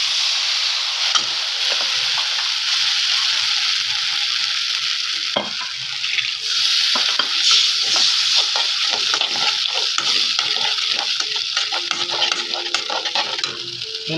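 Veg Manchurian with cornflour paste is stirred in a hot pan, a steady close sizzle and fry with scraping stir strokes and occasional utensil clinks throughout, with no talk.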